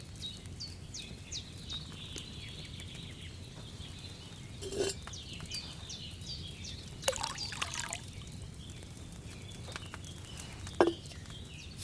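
Water trickles and pours into a cauldron in a Kingdom Come Deliverance 2 scene, a faint steady liquid stream with a few clinks and birdsong in the background.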